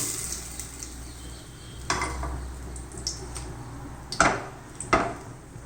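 Bay leaf and a cardamom pod hit hot ghee and oil in a pan, giving a soft steady sizzle punctuated by several sharp clinks and taps of a spoon against the pan, no voices.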